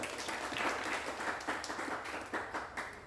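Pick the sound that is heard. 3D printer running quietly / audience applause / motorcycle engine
audience applause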